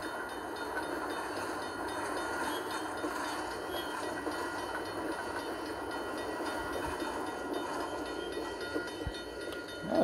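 A freight train with a caboose rolls past in a railroad simulator game, a continuous low rumble and rolling hiss at moderate level with a faint click near the end.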